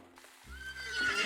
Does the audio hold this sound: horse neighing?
yes